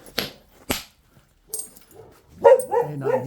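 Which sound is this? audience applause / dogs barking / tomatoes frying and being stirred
dogs barking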